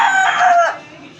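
A rooster gives a single close, loud crow that lasts under a second and then trails off into quiet.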